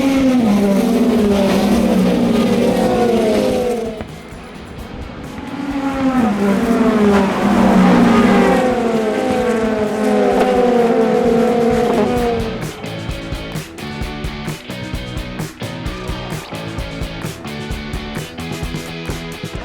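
Race cars at the Sebring 12 Hour roar through the bumpy first corner in a pack, engines loud and layered as they shift and pass, then quick clattering passes follow as the field strings out.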